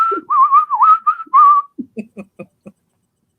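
A person whistles a short, wavering tune up close and clear, followed by a handful of soft clicking taps.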